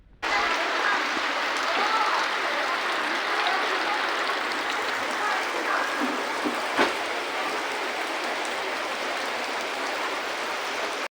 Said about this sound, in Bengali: স্কুলে আসার পর আবার সেই বৃষ্টি, স্কুলের মাঠ তো পানিতে ভরে গেল।